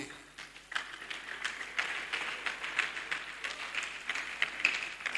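Thin, scattered applause from a lecture audience welcoming a police chief superintendent as guest speaker, light claps running steadily for about five seconds at modest, somewhat distant level.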